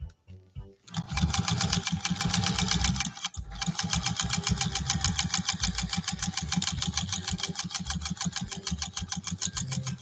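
A vintage sewing machine, a Pfaff 130-6 or Singer 201-2, stitches fabric in a fast, steady mechanical rhythm that runs almost the whole time after a short start, with one brief pause, close and loud.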